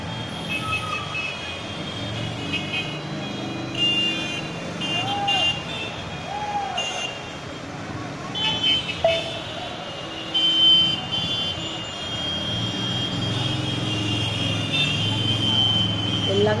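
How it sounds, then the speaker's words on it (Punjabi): Road traffic crawls along MG Road in Kolkata, heard from a room window at a gurudwara, as a continuous rumble with intermittent squeals and horn-like tones and faint voices now and then. "ਐੱਮ ਜੀ ਰੋਡ 'ਤੇ ਟ੍ਰੈਫਿਕ ਚੱਲ ਰਿਹਾ"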